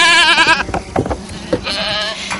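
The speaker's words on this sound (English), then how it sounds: "Milk mamas are women who keep herds of goats," A herd of goats bleats nearby, with wavering, nasal cries at the start and again near the end and scuffling farmyard noise in between.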